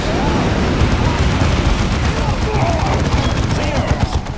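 Gunfire in the Dawn of War 2 video game: a dense, continuous volley of overlapping shots and rattling bursts, loud and unbroken for the whole stretch, with battle noise layered underneath.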